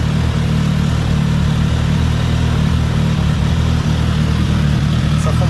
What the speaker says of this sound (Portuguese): marcha lenta dela,